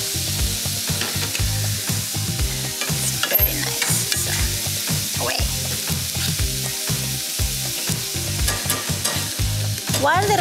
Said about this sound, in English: While the radicchio cooks